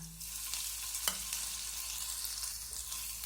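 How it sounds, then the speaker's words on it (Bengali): Grated ginger and minced garlic frying with cumin seeds in a pan, a continuous close sizzle with scraping from stirring and a sharp utensil knock partway through, steady and moderately loud without voices. "আদা আর রসুনটা আমি মিনিট খানিকের জন্য এইভাবে নেড়ে চেড়ে ভেজে নেব"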